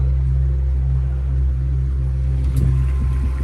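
A steady low electric boat motor hum at about three-quarter throttle drones without pause, with a faint watery rumble and a brief rise in the noise near the end.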